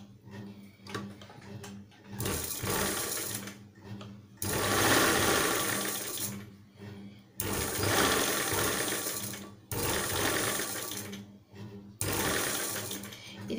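Sewing machine stitching piping onto a blouse sleeve, running in loud bursts of steady motor whir separated by brief pauses, with no talk over it.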